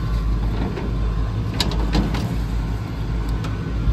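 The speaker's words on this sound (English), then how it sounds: "Motor is spinning there" The motor of a fairly new HVAC unit with a broken belt spins freely with a steady, loud low hum and faint clicks and rattles.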